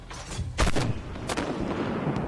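Tank cannon fire in the video game Armored Warfare: two loud, close booming shots about a second apart, each with a broad crack and a rumbling tail, with no talk.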